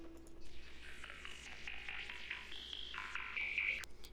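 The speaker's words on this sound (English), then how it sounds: "It's really glitchy. It's like a subtle glitchy sound." Stuttering, chirping synthetic blips and warbling tones from the Serum synth flicker in and out, a quiet glitchy electronic texture with no voices.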